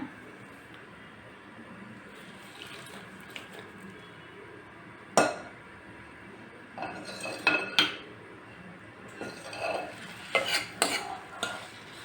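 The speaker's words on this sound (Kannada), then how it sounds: "ಈಗ ಒಗ್ಗರಣೆ ಹಾಕೋಣ" A spoon scrapes and clinks against a pan while stirring a tempering for raw mango rasam, in scattered bursts over a low background hiss, with a sharp clatter partway through.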